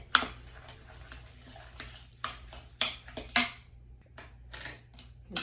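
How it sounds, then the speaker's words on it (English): Salmon burger mixture with garlic paste and a cracked egg being stirred in a bowl, with irregular sharp clinks and scrapes of a utensil against the bowl and quiet wet mixing between them. "And then give it a good mix."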